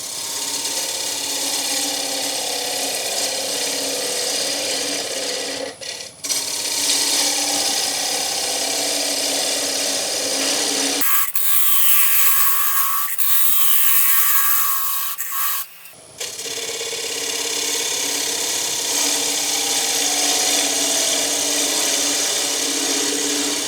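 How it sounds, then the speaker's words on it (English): Sandpaper rubs on a turned wooden bowl spinning on a lathe, a steady loud hiss-like whir with the motor hum beneath, broken by two short pauses and a quieter stretch midway. "now we can get that sanded"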